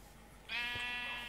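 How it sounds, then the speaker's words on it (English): Sheep bleating in Minecraft, a single drawn-out game bleat that starts abruptly and holds for under a second, close and fairly loud over a faint steady background hum, with no talking. "Oh, the sheep!"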